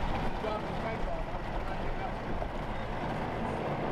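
A boat engine throttles up hard as the craft approaches a dock, a steady broad rumble that stays loud throughout with no distinct pauses.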